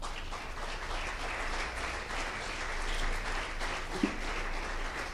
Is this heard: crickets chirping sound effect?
no